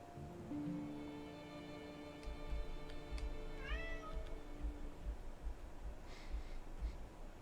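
A cat meows in the Forest Ranger Simulator video game, a few drawn-out rising meows heard close and clear over quiet music and a soft rhythmic ambient bed.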